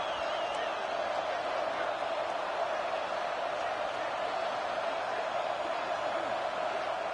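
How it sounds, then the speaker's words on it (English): A college football video game stadium crowd roars during a College Football Playoff first-round game, Virginia Tech at Minnesota, as the defense tries for a goal-line stop. The roar is a steady, continuous wash of noise with no distinct cheers. "the crowd really making making some noise now, trying to help out this defense to get this stop near the goal line"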